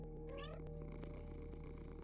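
A cat meows once in the Minecraft video game, a short rising cry near the start that sits over a steady hum of game background music.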